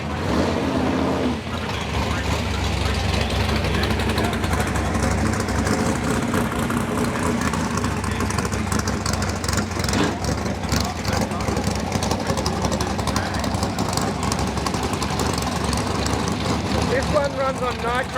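Engine of an XF Ford Falcon idling at a car show, a steady continuous rumble with a deep low end that runs for the whole stretch amid general crowd noise.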